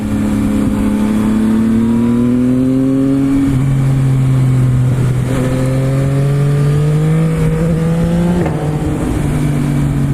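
A 2021 Yamaha MT-09 SP motorcycle being ridden, its engine droning loud and close throughout, rising in pitch through several gears with brief dips at each shift and no voices.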